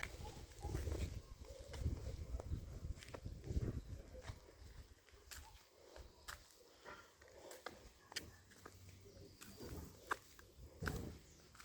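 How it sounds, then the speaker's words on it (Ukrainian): Outdoor garden ambience with scattered short bird chirps and calls at a moderate distance, over low rustling and background noise, no talking. "Пташки співають"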